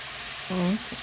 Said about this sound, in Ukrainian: Гарненько кипить, гарненько булькає.